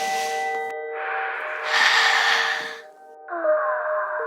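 Slow breaths, in and out, taken during a guided yoga meditation, heard as breathy, sighing exhales alongside sustained tonal notes that hold steady underneath.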